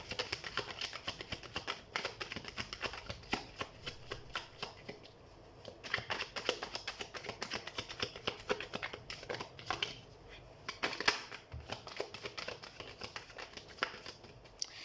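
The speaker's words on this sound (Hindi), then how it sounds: "तो हम सबसे पहले कार्ड शफल कर लेते हैं" Tarot cards being shuffled by hand, a steady run of dense papery riffles and flicks that continue throughout at close range, with short pauses and no talking.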